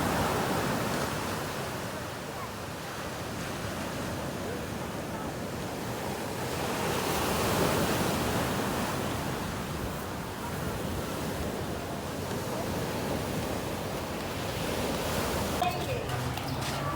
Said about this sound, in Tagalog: Ito yung dagat guys.